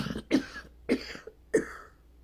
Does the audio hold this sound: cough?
yes